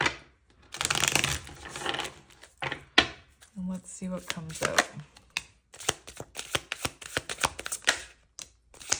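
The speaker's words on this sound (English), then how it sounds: "Just going to give it a shuffle" Cards being riffled and shuffled close up, a rapid flurry of papery flicks and snaps, with a voice talking briefly in the middle.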